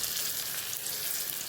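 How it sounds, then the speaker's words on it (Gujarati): Red chili and Kashmiri chili sizzle in hot oil for a tempering for dal palak, a dense, steady hiss that holds evenly loud and close for a second and a half with no voices. "લાલ મરચું એડ કરીશું અને સહેજ કાશ્મીરી મરચું એડ કરી વઘારમાં"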